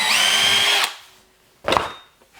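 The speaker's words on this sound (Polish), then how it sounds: "Wiertło wiercimy otwór środkowy" A power drill whirs at high speed boring a centre hole into MDF, stops, then gives a second short burst, close and loud.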